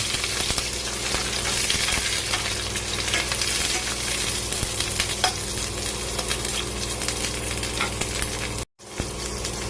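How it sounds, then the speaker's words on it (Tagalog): Chopped onions stirred and sautéed in a hot pan for a Visayan-style vegetable dish with milkfish, a steady loud sizzle with scraping stir strokes throughout and a brief dropout near the end, no talking. "Mix natin yung sibuyas."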